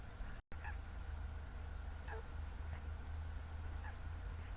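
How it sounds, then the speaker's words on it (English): Cranes call in the open in the early morning, a few distant trumpeting notes spaced over a steady low rumble of wind or background noise, with a brief dropout near the start. "best moment was recording the cranes."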